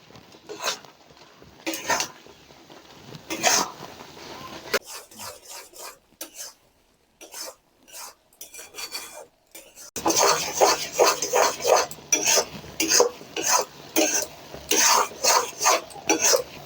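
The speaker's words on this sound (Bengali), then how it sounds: "আঁচটা হালকা রেখে ভালো করে আস্তে আস্তে করে নেড়ে চেড়ে মিশিয়ে নেব।" Sweets being stirred in syrup in a pan over low heat, with a spoon repeatedly scraping and rasping against the pan in uneven strokes, separated by short pauses and becoming louder and more rhythmic toward the end.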